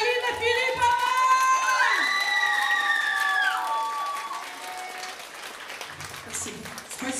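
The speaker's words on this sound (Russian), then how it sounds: "Поэтому аплодисменты, Алина Филиппова!" Audience at a charity concert bursting into loud applause mixed with high cheers and whoops, strongest at the start and gradually thinning, with a voice speaking briefly toward the end.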